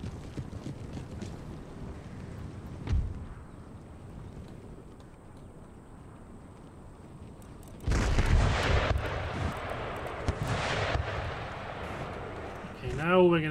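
Musket volleys and artillery fire in Empire Total War, a dense roll of distant shots swelling into a louder burst of sustained firing, with someone talking over parts of it.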